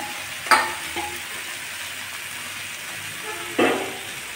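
Chopped green leafy greens sizzle in a pan with onion and garlic over low heat, with no water added, a steady faint fry broken by two sharp clatters of stirring.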